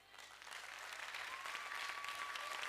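A comedy festival crowd in a hall answers with applause that starts softly and builds into steady, fairly distant clapping, with a thin whistle-like tone appearing partway through.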